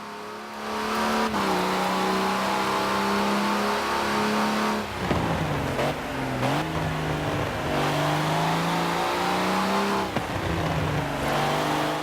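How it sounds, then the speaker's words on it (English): A Mini John Cooper Works car engine in the video game Forza Horizon 4 revs steadily, pitch rising and falling through gear changes, loud and continuous with no one talking. "it doesn't sound particularly comfortable giving it a bit of revs"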